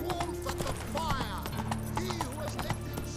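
Roach, Geralt's horse in The Witcher 3, gallops with fast, steady hoof clip-clops and occasional whinnies, mixed with game music and distant chatter.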